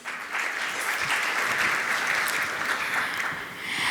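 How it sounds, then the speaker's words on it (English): An audience at a customer experience panel event applauding to welcome a speaker on stage, with sustained, full crowd clapping that rises quickly and eases slightly at the end. "Let's please welcome him on stage with another round of applause."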